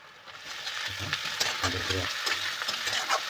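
Duck meat dropped into a pan of frying garlic, ginger, cumin, clove and cardamom paste, with a steady close sizzle and bursts of stirring and scraping throughout.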